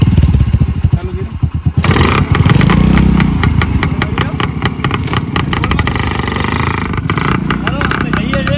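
A Rajdoot or Splendor motorcycle engine fires up, then idles with a loud, rapid, even putter close by, while people talk over it.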